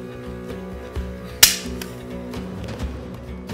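A single sharp click from an empty gun as the trigger is pulled during a mentalist's stage show, brief and loud over steady background music.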